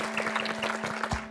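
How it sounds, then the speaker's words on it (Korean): Studio audience applause on a Korean talk show, a dense steady patter of many hands clapping at moderate level, with a faint tonal hum beneath and no speech. "그 이야기를 저희가 박수로 한번 청해 듣겠습니다"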